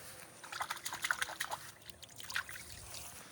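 Water from an irrigation channel trickles and gurgles into a flooded rice paddy, a faint, uneven stream of small splashes heard from close by with no one talking.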